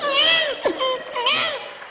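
A voice imitates a newborn baby crying: wavering, high wails rising and falling in two short bursts, close and fairly loud.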